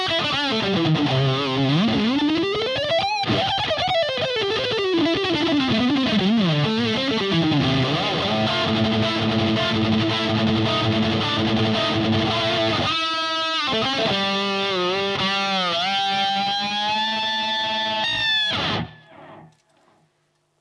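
Heavily distorted electric guitar through a Fender Yngwie Malmsteen Overdrive pedal at full settings with a noise gate plays bending lead lines and sustained notes, then cuts abruptly to silence as the last note is choked off.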